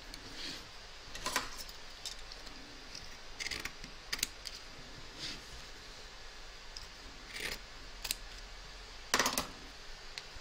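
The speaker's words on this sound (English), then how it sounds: "Trim away the fabric from around the cuffs." Scissors snip away appliqué fabric around the cuffs of a large Mrs Claus embroidery, giving a few sparse, quiet cuts scattered across a near-silent stretch.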